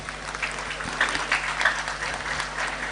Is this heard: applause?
yes